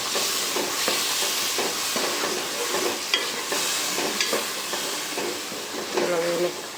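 Dried Bombay duck fish is stirred and mixed in a pan with a steady rhythmic scraping and a constant close sizzle of frying, with brief voices now and then.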